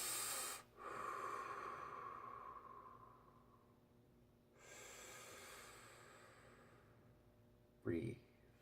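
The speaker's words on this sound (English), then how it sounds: "Conscious breathing." Deliberate pranayama yoga breathing, slow audible inhales and long hissing exhales repeated at a calm pace, close and fairly soft, ending in a short sharp breath.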